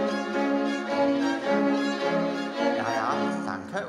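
Munich Philharmonic strings play the cream-filling passage of a children's Sorcerer's Apprentice performance: a full, sustained, warmly layered chord texture swelling and shifting continuously for a few seconds, with no talk.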